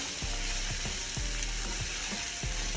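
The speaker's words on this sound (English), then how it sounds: "The first thing that I'm doing is cooking down my sausage. We want to make sure we get a nice sear on them." Sausage sears in a hot pan for smothered okra with shrimp, a loud, steady sizzle with regular soft knocks and clicks from the pan throughout.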